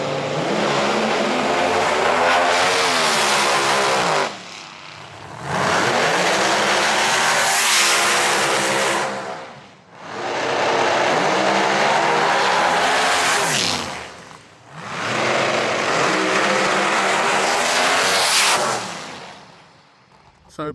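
A Pro Mod Cuda drag race car makes repeated loud, full-throttle passes at Santa Pod, four long roaring bursts of engine each rising and then cutting off, with short quieter gaps in between.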